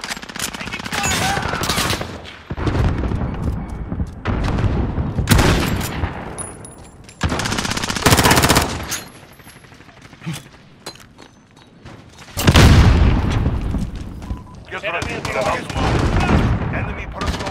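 Call of Duty Modern Warfare multiplayer battle on a hardpoint map: loud bursts of automatic gunfire and booming explosions repeat in waves throughout, with in-game voice callouts heard between the shots.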